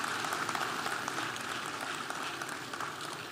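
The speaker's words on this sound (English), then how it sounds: "You have to clap again." Audience applause at a bank's annual general meeting in Ghana, a dense steady wash of many hands clapping that fills the room and slowly tapers off over a few seconds.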